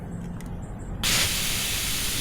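An ALL-TOP tire deflator screwed onto an off-road tire valve gives a faint ticking, then bursts into a loud, steady hiss of escaping air that holds to the end.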